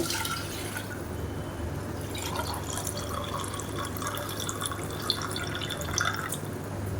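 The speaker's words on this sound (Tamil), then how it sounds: "இப்போ இதில் எக்ஸ்ட்ரா நம்ம அரை டம்ளருக்கு தண்ணி ஊற்றிக்கலாம்" Water poured from a tumbler into a pot of biryani in a home kitchen, a steady low trickling and splashing that runs throughout at moderate level with a few brief drips and no voices.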